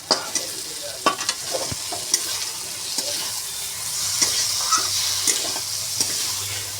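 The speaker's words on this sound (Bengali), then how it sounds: "ভেজে নিয়ে এটাকে এখন একটুখানি জল দিয়ে পোস্ত দিয়ে এটাকে এখন করছি" Fried paneer cooks with poppy seeds and a little water, sizzling steadily while a utensil scrapes and stirs in repeated sharp clicks and scrapes against the pan.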